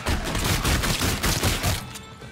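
Dense, loud, rapid gunfire fills a Call of Duty Zombies in Spaceland match with a pistol in use, shots blurring into a continuous volley with no talking.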